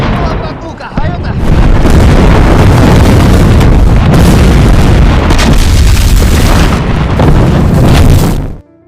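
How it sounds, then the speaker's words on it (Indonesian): Artillery shells exploding in a Second World War battle between Soviet troops and German tanks. Loud, heavy booms merge into an almost continuous roaring rumble that fills the clip, then cuts off abruptly near the end. "Kini serangan artileri yang diluncurkan lebih tepat sasaran"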